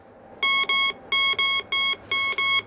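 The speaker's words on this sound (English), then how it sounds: "Hear that really high tone for the quarter?" A Quick Silver Bounty Hunter metal detector on a shallow setting sounds a high-pitched electronic tone over a quarter, pulsing six times in three close pairs, loud and clear against a faint hum.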